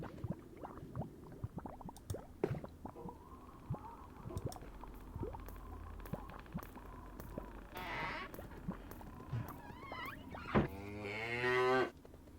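A cow in The Whispered World adventure game moos loudly near the end, a long wavering low call after a stretch of quiet clicks and soft shuffling sounds.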